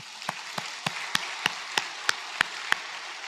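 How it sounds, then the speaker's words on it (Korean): Sparse, evenly spaced sharp claps ring out about three per second in a church service, each crisp and distinct over a quiet room tone, sounding like a small group or single pair of hands rather than a full congregation. "길을 열어주신 하나님께 영광의 박수"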